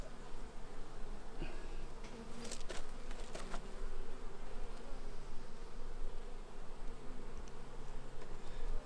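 Honey bees buzz steadily around a frame lifted from a hive as brood cells turn to honey storage, a dense continuous drone close by with a few louder passes from individual bees.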